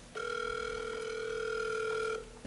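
A telephone sounds one steady, bright electronic tone that holds for about two seconds and then cuts off, clear and close with no talking over it.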